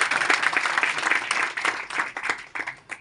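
An audience claps loudly for Laxmi Narayan Tondwal at a women's sewing centre inauguration in Chitanu Kalan village, a dense burst of hands that thins and tapers toward the end.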